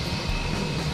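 A plane arriving at Bessia airport in Conakry, carrying an Ivorian presidential delegation, gives a steady, loud engine roar that holds without a break across the short stretch.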